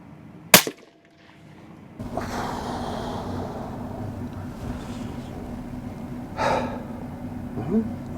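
A single sharp rifle shot fired at a fox during a night foxing outing, a brief loud crack near the start followed by quiet, then steady low outdoor background with a faint rustle later.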